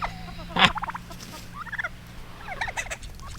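A turkey lets out several close, rapid gobbling bursts: one loud rattling call, then shorter warbling gobbles, with faint farmyard hum beneath.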